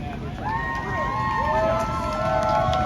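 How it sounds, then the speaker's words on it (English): An outdoor wrestling show crowd in the rain roars and cheers with whistles and shouts, a steady wash of noise with a voice talking beneath it. "Make some noise, everybody."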